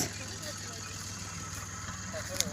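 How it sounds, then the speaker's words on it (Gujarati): A tractor engine idles with a low, steady, pulsing chug, fairly faint, alongside a constant background hum. "જો ટ્રેક્ટર પણ હાંકવાનું ચાલુ છે"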